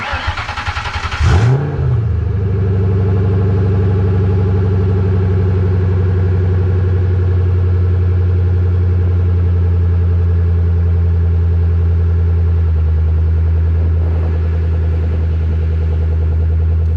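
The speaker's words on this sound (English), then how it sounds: "We're gonna turn the car on first. Hold on, cold start." A 1994–1998 Ford Mustang engine cold-starts with a quick crank and catch, then settles into a loud, steady idle that holds nearly unchanged up close.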